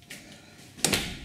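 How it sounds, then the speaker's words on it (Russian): A hotel room door is pushed shut, giving a single soft thud with a brief latch click near the end of a quiet moment, close by and with no talking. "закрыли дверь"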